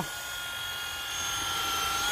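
A power drill whines steadily while boring, a high continuous mechanical tone rising slightly toward the end, moderately loud with no talk over it.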